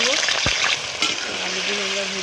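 Potatoes sizzle and crackle frying in white oil, with scraping stirs and a clink of a utensil against the pan.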